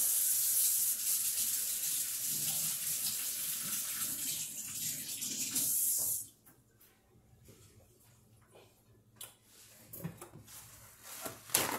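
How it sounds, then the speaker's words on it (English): A kitchen tap runs loudly for about six seconds as hands are washed, then cuts off, leaving quiet clinks and small handling noises nearby. "let me make sure that I wash my hands"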